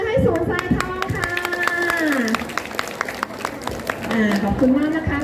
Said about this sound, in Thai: ขอเสียงปรบมือให้ศูนย์ทรายทองค่ะ